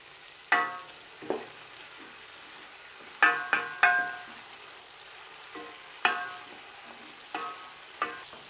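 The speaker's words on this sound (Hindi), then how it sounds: "मैं फ्लेम को थोड़ा तेज़ करके इसको सबको 1-2 मिनट के लिए भून लूँगा" Ginger-garlic-green chili paste frying on a high flame for a beef yakhni pulao: a quiet hiss under repeated sharp clinks of a spoon against the pot, some in quick clusters, spaced across the stretch with no talking.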